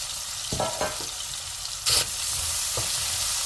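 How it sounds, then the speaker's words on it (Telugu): Onions and green chillies frying in a pan for a prawn and egg masala, a steady hiss of oil broken by a few sharp scraping stirs and one brief louder crackle, no talking. "ఉల్లిపాయ పచ్చిమిరపకాయ వేస్తాను."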